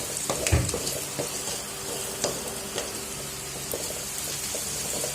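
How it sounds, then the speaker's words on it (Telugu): Turmeric fries in hot oil for a dry fish masala, giving a soft continuous sizzle broken by occasional sharp stirring scrapes and clinks close by. "వాసన అంతా వెళ్ళిపోతుంది బాగా వేయించితే నూనెలో"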